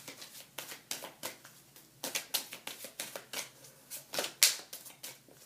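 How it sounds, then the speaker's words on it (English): Rapid papery riffling bursts of cards being shuffled, repeated in quick uneven flurries, close and crisp with no talking. "to shuffle my cards"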